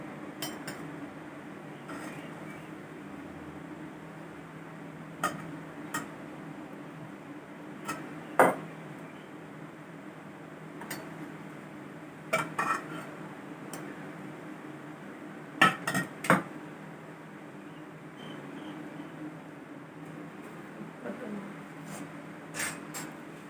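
Steel dishes and cutlery clink and scrape in a home kitchen while pulao lunch boxes are packed, scattered light metallic taps and clatters recurring over a quiet room hum.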